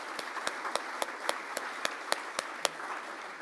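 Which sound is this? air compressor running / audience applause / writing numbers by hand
audience applause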